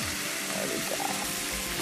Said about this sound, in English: I'm going to use a little broth.